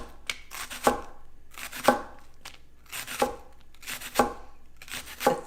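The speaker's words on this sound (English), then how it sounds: "Just cut it in really thin slices." A knife cuts food into thin slices on a board for a chicken and pasta dish, with crisp, close chops coming in small clusters at an unhurried, steady pace and no voices.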